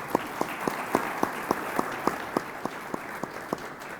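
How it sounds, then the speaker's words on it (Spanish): Audience applause at a panel discussion, a steady wash of many hands clapping with one louder, evenly paced clap standing out near the front, all without speech. "Aplausos, gracias."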